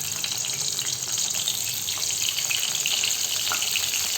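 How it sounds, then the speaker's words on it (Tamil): Cut eggplant sautés in hot oil for an oil brinjal curry. A steady bright hiss with small crackles runs throughout, with no voices. "கத்திரிக்காயை இது கூட சேர்த்துக்கலாங்க. சேர்த்துட்டு எண்ணெயை நல்லா வதக்கலாங்க."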